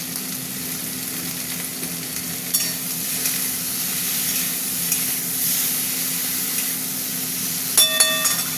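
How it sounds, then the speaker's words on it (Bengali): Whole okra frying in a pan with a little salt, giving a steady close sizzle throughout with a few brief clinks of utensil against the pan. "ভাজা হতে থাক"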